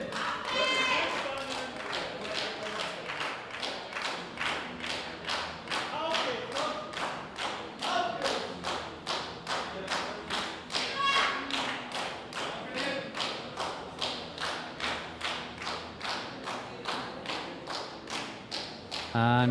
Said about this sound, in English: every time you hear the applause, you can almost bet it's a German lifter